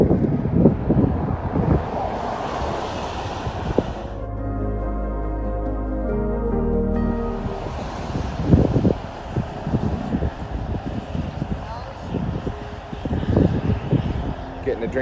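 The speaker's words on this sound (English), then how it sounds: "Very windy. It is windy." Strong wind in Jasper, Alberta roars and buffets the microphone with heavy broadband rumble, easing briefly in the middle before gusting again.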